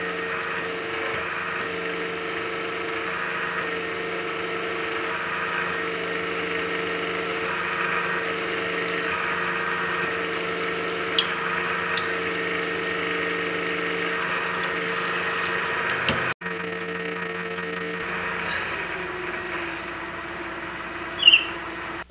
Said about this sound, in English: Now I'm going to counterbore down with this drill